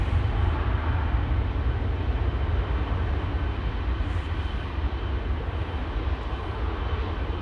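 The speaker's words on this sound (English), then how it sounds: "KLM 777 300 Papa Hotel Bravo Victor Bravo, 17-year-old specimen." A 17-year-old KLM Boeing 777-300 jet airliner at Schiphol gives a loud, steady, close engine roar with deep rumble that holds unbroken throughout, with no voices.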